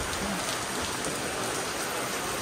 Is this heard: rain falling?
yes